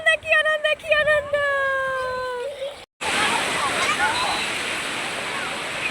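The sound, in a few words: sea waves at Digha beach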